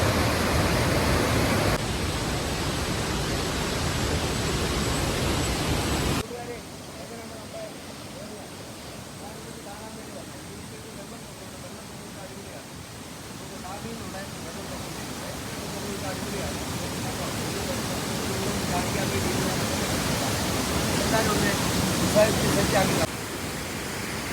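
Steady broadband rush of a waterfall in Thenmala, loud and continuous for the whole stretch, with the level dipping slightly partway through and then swelling again.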